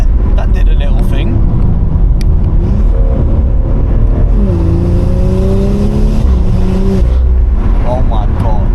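An old BMW engine revs hard under acceleration, rising in pitch, then dropping sharply at each aggressive gear shift before climbing again, close and loud with people talking over it.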